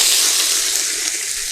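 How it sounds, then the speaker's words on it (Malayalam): Cut chicken pieces fry in hot oil, a loud, dense, close sizzle that holds steady and eases off slightly, with no voices. "അപ്പോൾ നമ്മൾ കട്ട് ചെയ്തെടുത്ത് ചിക്കൻ നമുക്കൊന്ന് ഫ്രൈ ചെയ്തെടുക്കാം."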